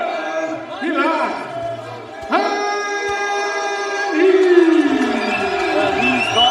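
A crowd cheers and shouts for a boxer's entrance at a live boxing match, a steady roar with rising whoops and yells, alongside a voice.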